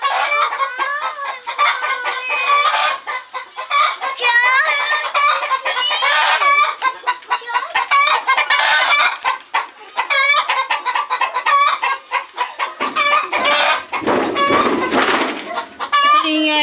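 Backyard farm chickens cluck loudly and continuously, with a rooster crowing among them. Dense, close, overlapping calls fill the whole stretch.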